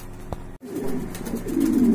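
Afsan grizzle pigeons coo in a loft, a low rolling coo building and swelling louder toward the end, close by, with a brief chirp early on.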